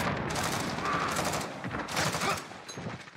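Rapid gunfire in a Modern Warfare match, with an MP5 submachine gun in play, crackles in dense, sustained bursts that swell and ease over a few seconds amid the clutter of a chaotic firefight.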